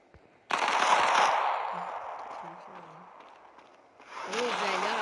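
Rapid automatic gunfire in the online shooter game Modern Combat 5, a loud sustained burst that fades, then a second burst, with a voice talking in the gap.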